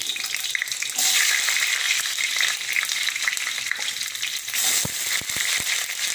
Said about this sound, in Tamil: எண்ணெய் ஓரளவுக்கு சூடாக இருக்குது பூண்டு போட்டுருவோம்